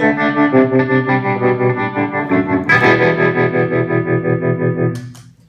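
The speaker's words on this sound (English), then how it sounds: "I've got tremolo." Sustained electric guitar chords pulsing steadily in volume with a tremolo effect, a fast regular throb, loud and close, then a final chord change.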